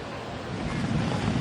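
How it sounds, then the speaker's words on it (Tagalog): Strong rushing current of a flooding river in Barangay Gasi, Kiamba, a steady dense roar of water with wind buffeting the microphone, continuous and close. "Ganito naman katindi ang agos ng ilog sa Barangay Gasi sa bayan ng Kiamba."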